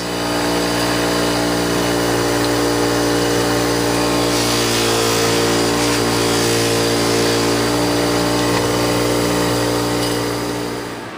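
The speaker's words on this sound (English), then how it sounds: "We're going to go ahead and put the rouge on the wheel and buff the inside of this guy right here." A motor-driven buffing wheel runs steadily as rouge-loaded cloth buffs metal, a loud continuous mechanical whine and hum lasting throughout without speech.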